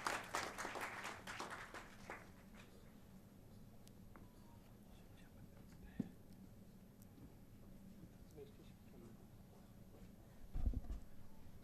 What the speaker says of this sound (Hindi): जोरदार तालियों से अभिनंदन चलता रहना चाहिए।